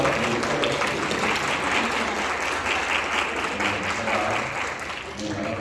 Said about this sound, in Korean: 축하의 박수